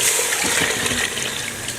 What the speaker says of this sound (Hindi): अब इसके अंदर हम पानी शामिल कर लेते हैं